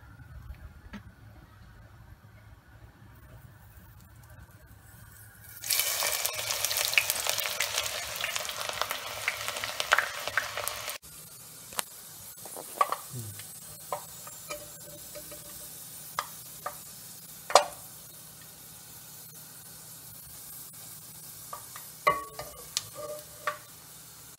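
Brinjal (eggplant) fries in hot oil in a pan for wambatu moju. A low, steady sizzle swells into a loud, hissing crackle for about five seconds, then settles back to a quieter fry with scattered ticks and knocks from stirring.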